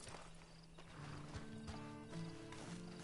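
A horse in the video game Red Dead Redemption 2, quiet clip-clop hoofbeats and snorting over faint game ambience and low tonal music, heard alone without speech.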